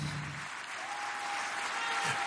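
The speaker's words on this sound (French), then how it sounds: "Donald Trump est applaudi de longues minutes par les parlementaires et par les membres du gouvernement" Long sustained applause from Israeli parliamentarians and government members greeting Donald Trump in the Israeli parliament, a dense steady wash of clapping with a brief low voice near the start.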